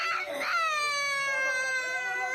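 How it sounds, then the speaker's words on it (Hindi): A little girl cries at a shop where her father is being beaten, giving a high-pitched, sustained wailing sob that rises after a short broken start and holds steady, close and fairly loud, with no talking. "बच्ची के रोने की आवाज भी आप सुनिए"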